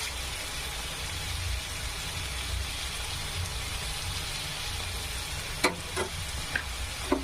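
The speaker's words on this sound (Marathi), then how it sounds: "कांदा छान तळू द्यायचा, असा फ्राय होऊ द्यायचा मस्तपैकी।" Onions fry with salt in a pan, giving a steady close sizzle throughout, with a few sharp clicks from stirring near the end.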